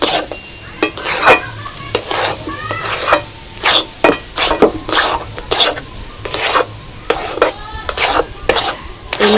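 A spatula scraping and stirring thick sandesh mixture in a pan, with regular rasping strokes about once a second, close and crisp over a faint sizzle.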